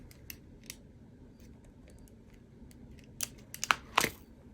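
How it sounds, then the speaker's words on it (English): Scissors snip a small piece of diamond painting material, with a few quiet close cuts early and then a quick cluster of louder crisp snips near the end. "I'm gonna cut this little piece."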